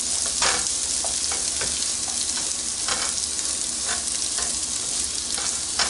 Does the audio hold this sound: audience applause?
no